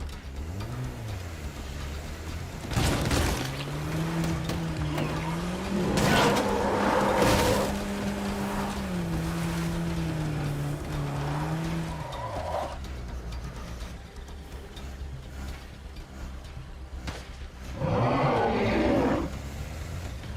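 Car engine from State of Decay 2 droning with rising and falling revs, fairly loud and steady, with a few sharp knocks and a harsh burst near the end.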